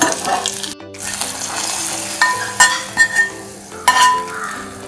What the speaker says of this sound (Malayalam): ഒന്ന് നമുക്കിതിലേക്ക് വറവ് ഒഴിച്ച് കൊടുക്കാം